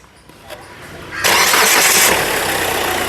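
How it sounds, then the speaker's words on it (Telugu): A diesel 2017 Hyundai Creta SX Plus engine cranks and catches abruptly on a single start, then settles into a loud, steady running roar close by. "సింగిల్ సెల్ఫ్లో కార్ స్టార్ట్ అయితే ఎటువంటి స్టార్టింగ్ ట్రబుల్ అయితే లేదండి"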